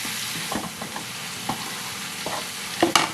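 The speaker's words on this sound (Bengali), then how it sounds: "সব কিন্তু আমি একসঙ্গে ভালো করে কষিয়ে নিচ্ছি" Chicken gizzard, liver, potato and onion sautéing in a pan, with a low steady sizzle broken by scattered scrapes and clinks of a spatula stirring, close and fairly quiet.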